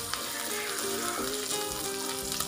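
Ginger-garlic paste sizzling in hot oil in a pan, a continuous close and loud frying hiss with small crackles throughout and no voices.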